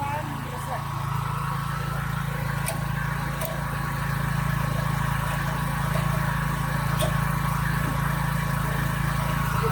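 A portable generator runs at a steady, continuous low drone throughout, an even mechanical hum that holds level from start to finish with a few faint clicks above it.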